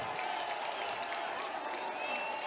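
A college baseball crowd at Mark Light Stadium in Miami cheering and applauding after a two-run home run, a dense continuous roar of claps and shouts.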